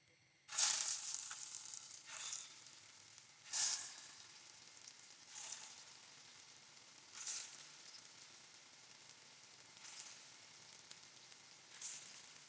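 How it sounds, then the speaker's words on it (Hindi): Aloo tikki patties frying in hot oil on medium-low heat, a steady sizzle broken by repeated louder crackling bursts every couple of seconds, close and continuous with no talk. "तो टिक्कियाँ बनाने के बाद अब बारी है फ्राई करने की"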